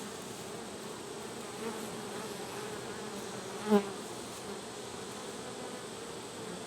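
Honey bees buzzing around a hive during spring colony splitting, a steady, soft, continuous drone with one brief closer buzz passing by midway, no talking.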